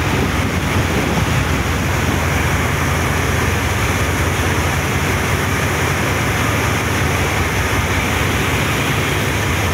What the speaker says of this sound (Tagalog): Kumukulo ang dagat.